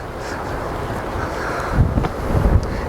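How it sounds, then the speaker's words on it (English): Wind buffets the microphone in a steady low rumble, with harder gusts thumping in toward the end, loud and close. "It is quite windy"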